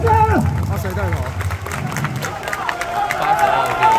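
A baseball stadium crowd at Tianmu cheers and claps during a Wei Chuan Dragons versus Rakuten Monkeys game, a bright chant and applause swelling under an amplified voice leading the cheer.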